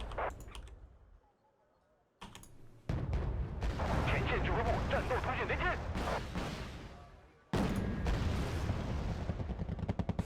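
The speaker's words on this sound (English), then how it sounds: "they're like firing at the Motostrelki" Units fire on Motostrelki motor-rifle infantry in the real-time strategy game Wargame: Red Dragon, in a 1979 campaign scenario. Loud bursts of gunfire and artillery-like booms come in clusters with quiet gaps, and a voice talks over them.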